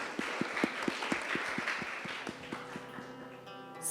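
An audience at a school youth event claps in a steady rhythmic beat over a low crowd murmur, moderately distant, with a sustained tone coming in near the end.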